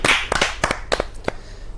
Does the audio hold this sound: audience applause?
yes